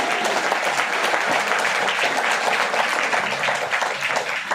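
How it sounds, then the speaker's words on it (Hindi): A seminar audience in Faridabad breaks into dense, sustained applause, many hands clapping steadily together for several seconds, loud and close with little else over it. "एक बार शानदार ताली अपने लिए बजा दीजिए"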